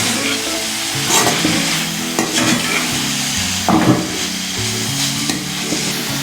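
Cabbage and red capsicum stir-fried over high flame for veg noodles, a loud steady sizzle broken by several brisk tossing and scraping bursts of a spatula against the pan, heard up close without voices.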